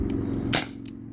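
A single sharp shot from a modified Umarex Brodax BB revolver powered by a 12 gram CO2 cartridge, a crisp close crack over a low steady hum, with a fainter click before and after.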